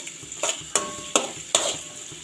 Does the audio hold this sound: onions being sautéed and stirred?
yes